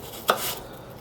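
A single crisp knife cut slices through an apple quarter being prepared for pie filling, a short sharp snap followed by a brief whoosh of the blade, alone in a quiet kitchen.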